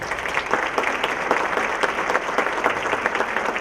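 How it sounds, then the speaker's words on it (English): Audience applause fills a room at a business appreciation award breakfast, steady dense clapping from many hands, fairly close and even throughout with no pauses. "round of applause"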